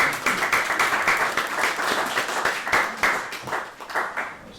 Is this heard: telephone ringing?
no